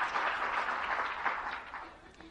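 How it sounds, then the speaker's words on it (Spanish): Convention audience clapping for a speaker, a steady wash of applause that fades slightly near the end. "Un aplauso para nuestro offline."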